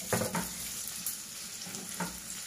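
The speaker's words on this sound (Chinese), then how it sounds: "黄油融化后，将洋葱倒进来，" Onions frying over medium-low heat in melted butter and a little oil in a clay pot, giving a steady soft sizzle with a few brief stirring scrapes, close and alone with no talk.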